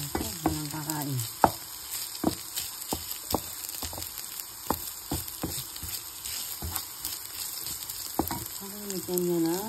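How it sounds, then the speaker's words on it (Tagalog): Chicken pastil frying in a pan, with a steady close sizzle broken by repeated sharp scrapes and clinks of a utensil stirring at an irregular rhythm, and brief talking at the start and end. "Halo-halo parang hindi masunog sa ilalim."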